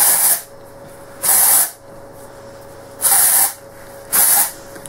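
Dry shampoo aerosol sprayed onto hair roots in four short hissing bursts, each about half a second to a second long, loud and close with quiet gaps between.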